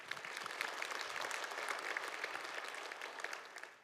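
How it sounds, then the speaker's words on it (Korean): At a regional forum, an audience gives a big round of applause for Busan mayor Park Heong-joon, dense and even clapping heard from a distance that continues for several seconds. "박형준 시장에게 다시 한번 큰 박수 부탁드립니다."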